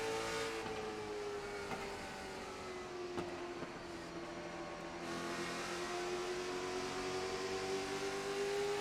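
Race cars from the Tater Chip Racing Series roar around the track in a steady, loud engine drone with a gliding pitch as a pack battles for position, no talking over it.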